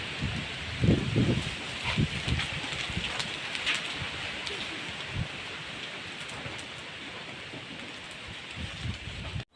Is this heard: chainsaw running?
no